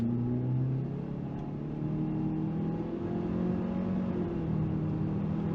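A 2022 Mitsubishi Eclipse Cross SEL compact SUV under full-throttle acceleration, its engine giving a steady droning rumble that rises gradually in pitch from inside the cabin, with no talking.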